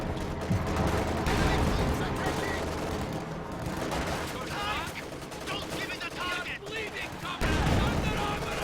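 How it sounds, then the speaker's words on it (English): A Panzer IV tank shell hits its target in the Company of Heroes 2 video game, one boom among dense, continuous gunfire and explosions, with a commentator's voice running over the battle noise. "there's a nice hit there from the P4"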